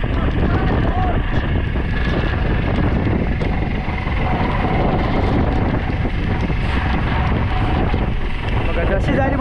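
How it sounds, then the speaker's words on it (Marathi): A strong storm wind roars steadily across a fishing boat in the deep sea off Mumbai. The loud, unbroken rush buffets the microphone, and water and boat noise mix in throughout. "आता वारा सुद्धा जोराचा."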